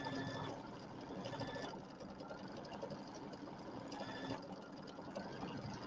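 An embroidery machine stitching borders and flanges hums in a steady mechanical run, its needle beating rapidly and evenly at a moderate, close level with no voices.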